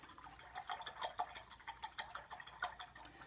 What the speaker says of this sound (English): I will rinse that color out.